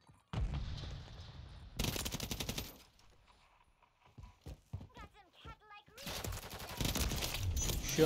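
Gunfire in Call of Duty Modern Warfare 3 during a multiplayer bomb match, with dense bursts of automatic fire in loud stretches at the start and end, and a quieter middle where a person talks over faint in-game sounds.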